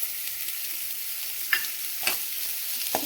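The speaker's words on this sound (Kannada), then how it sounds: "ಫ್ರೈ ಆದಮೇಲೆ ಚಕ್ಕೆ ಲವಂಗ ಇರುತ್ತಲ್ಲ, ಇದನ್ನು ಹಾಕಿ ಫ್ರೈ ಮಾಡೋದು." Whole spices, cinnamon and cloves, frying in a pan for village-style mutton sambar: a steady soft sizzle with a few brief clinks of stirring, close and alone with no talking.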